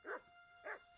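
A dog barking in the medieval video game Kingdom Come: Deliverance 2, two short, faint barks spaced about half a second apart.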